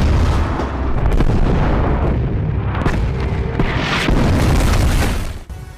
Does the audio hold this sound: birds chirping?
no